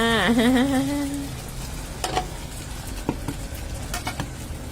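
Food frying in a pan over lowered heat while cooking a Thai-style omelette, with a soft steady sizzle and small crackles and pops; a voice rises briefly at the start, then the sizzling continues alone.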